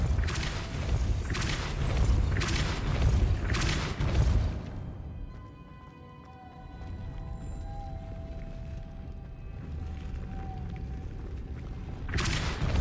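Depulso spell effects in a Harry Potter game at Hogwarts during Christmas, a run of five or six loud rhythmic whooshing blasts, then a quieter stretch of humming ambience, ending with another burst.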